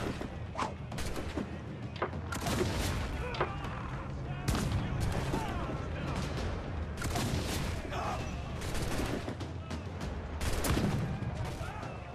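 Cannon gunfire in the naval game Assassin's Creed IV Black Flag: repeated booming shots and crashing impacts over busy battle noise, loud and dense throughout, with a voice talking at points.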